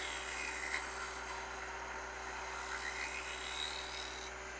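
A negative rake scraper takes a super-light cut of about 0.02 inch on a lathe, giving a steady, continuous whirring hiss with a faint tonal hum. The noise stays level throughout, close and moderately quiet, with no talk over it.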